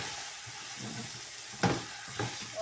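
Whole spices and a bay leaf dropped into hot oil for Lahori biryani, giving a soft, quiet sizzle broken by a couple of sharp stirring clinks, with no talking.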